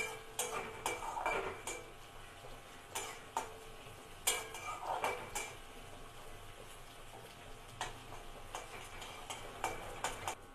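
Gobindobhog rice is being fried over a low-medium gas flame in a pan, with a spatula stirring it in short scraping, rattling bursts spaced a second or two apart against a quiet background.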